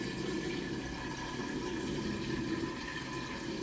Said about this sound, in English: Draining that water out nice and fast.